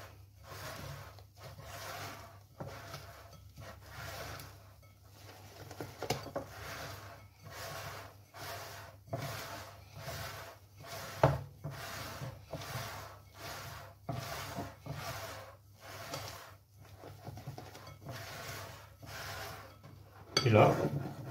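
Cake batter for a Dôme grenoblois being folded together with the remaining egg whites, soft repeated scraping and stirring strokes of a utensil against a bowl in a steady rhythm, close and fairly quiet, with a few louder knocks.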